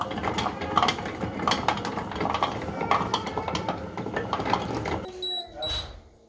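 Compact Cook Platinum kitchen robot heating chocolate with milk in its bowl, a steady mechanical whirring and clicking under ongoing talk, then stopping near the end with a few short beeps.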